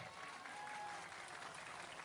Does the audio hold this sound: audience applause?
yes